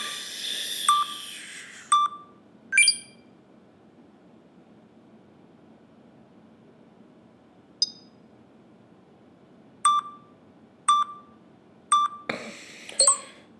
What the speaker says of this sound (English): So this is how it works with the interval timer.